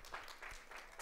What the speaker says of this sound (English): Let's give the Lord a hand clap of praise this morning.